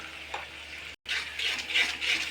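A spice paste of ginger, garlic, turmeric, chilli, cumin and coriander sautés in a pan, giving a soft sizzle with stirring scrapes, broken by a brief silent gap before the frying resumes a little louder.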